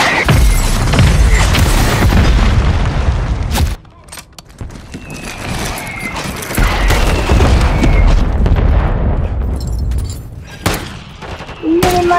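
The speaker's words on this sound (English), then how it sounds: "Hostile mortar strike near your position." Hostile mortar strike in Call of Duty: a loud, dense barrage of booming blasts and rumbling gunfire, breaking off briefly before more thuds and distant explosions roll in.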